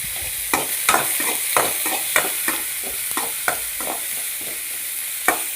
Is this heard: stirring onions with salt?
yes